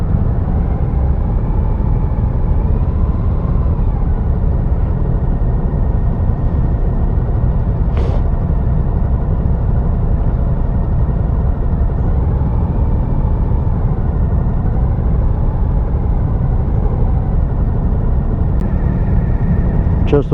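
A 2022 Suzuki V-Strom 1050XT adventure motorcycle pulls away on a ride, its engine a steady, loud rumble with wind noise throughout and a brief higher whine midway.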